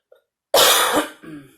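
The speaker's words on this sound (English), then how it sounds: "See, there goes that cough." A single harsh cough bursts out close by, followed by a shorter, softer throaty hack as it trails off.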